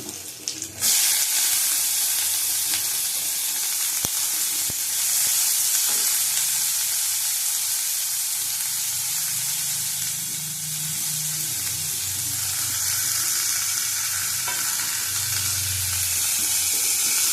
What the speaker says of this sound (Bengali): লাউ চোকলার মধ্যে দুটো কাঁচা লঙ্কা আছে, সিদ্ধ বসিয়ে দিয়েছিলাম। একসাথে সব ভেজে নেবো, ভালো করে ভাজবো।